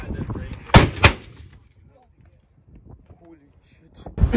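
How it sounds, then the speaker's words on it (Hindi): Two sharp gunshots from an M416 rifle ring out close together near the start, followed by quieter background and a burst of noise at the end, with speech present. "ये वाली एक बुलेट हमको शूट करनी है सबसे पहले"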